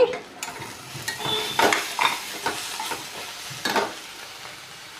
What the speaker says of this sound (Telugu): వేగిపోయిందండి కర్రీ ఇప్పుడు ముక్క క్యాబేజీ బుట్ట మెత్తగైనంత వరకు వేయించుకోవాలి